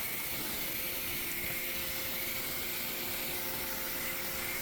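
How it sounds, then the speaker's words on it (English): A pressure washer rinses foam off a Porsche Boxster S after winter storage, giving a steady, loud broadband hiss of spraying water that runs unbroken throughout, with no talking. "even with the pressure washer there, it just comes off that way"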